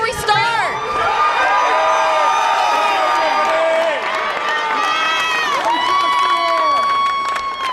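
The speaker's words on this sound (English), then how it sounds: "Can I get some cheers in the crowd before we start?" An indoor livestream crowd cheers, whoops and shouts continuously, with excited high-pitched voices rising and falling over a dense wall of noise.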